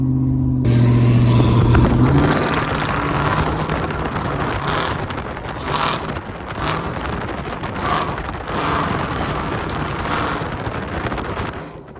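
Cammed Chevrolet Tahoe V8 with new headers and exhaust, heard from outside as it pulls away: a loud deep rumble that swells briefly, then settles into a lumpy idle-like burble with some wind noise, no talk.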